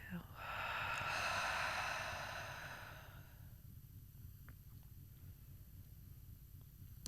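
One long, deep breath out through the body during a guided breathing meditation, a soft airy rush lasting about three seconds before the room settles into near silence.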